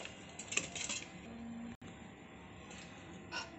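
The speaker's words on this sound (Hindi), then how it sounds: "अब हम इसमें ये तरबूज डाल देंगे।" Chopped watermelon pieces go into a mixer jar in a home kitchen, making a few light clinks and taps against the container, close and moderately quiet.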